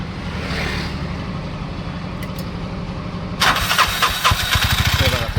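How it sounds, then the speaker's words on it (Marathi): A Bajaj BS6 auto rickshaw engine cranks and catches, then settles into a loud, close idle with rapid, even pulsing. Before the start there is a steady background rumble with some indistinct voice. "चालू कर गाडी."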